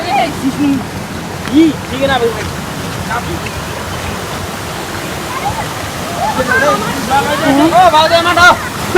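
Rushing water from a waterfall roars steadily in the background while several people talk and call out over it.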